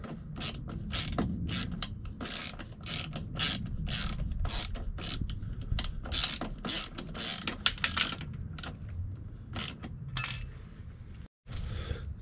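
A ratchet undoing the nut on a Piaggio MP3 500 scooter's rear shock absorber, a rapid series of sharp metallic clicks in quick strokes, close and loud, ending with a brief pause and a final few clicks.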